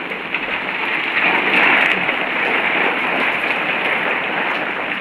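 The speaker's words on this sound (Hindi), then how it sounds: "बारिश आ रही है बल्कि अंदर" Rain pours steadily into a house through a broken spot, a dense continuous hiss of drops on surfaces that swells slightly midway, with no voices.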